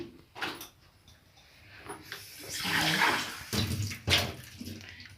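Warm water runs from a kitchen tap into a mixing bowl while fish is prepared, a moderate splashing flow with some handling clatter, heard without talk.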